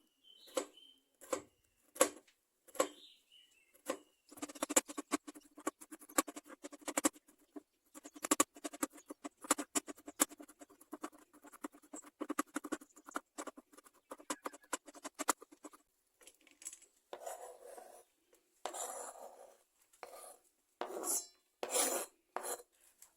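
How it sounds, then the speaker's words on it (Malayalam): Bitter gourd sliced very finely with a knife, a steady run of quick, close rasping cuts against a board with brief pauses, no voices. "വളരെ നൈസായിട്ടൊന്ന് അരിഞ്ഞെടുക്കാം കട്ടിയൊത്തും പാടില്ല വളരെ നൈസായിരിക്കണം ഈ രീതിയിൽ ഒന്ന് കട്ട് ചെയ്തെടുക്കാം"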